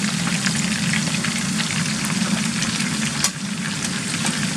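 Battered fish fries in hot oil with a dense, steady crackling sizzle at an even loudness and no voices.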